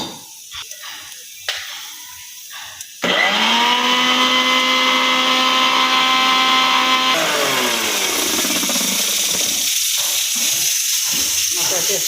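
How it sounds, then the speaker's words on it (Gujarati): A kitchen mixer grinder whirs loudly as it grinds ginger and green chillies, its steady motor whine shifting pitch partway through and continuing to the end. Brief voices and handling noises come before it starts. "આદુ મરચાં આપણે મિક્સરમાં કાઢી થઈ આમાં કાઢી દઈશું।"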